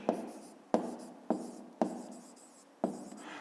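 Pen or pencil strokes on paper while working a fifth-grade math exercise on the surface area of a rectangular box, five sharp taps each followed by a short scratching trail, close and quiet with no talking.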